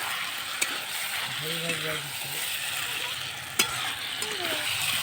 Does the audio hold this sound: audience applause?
no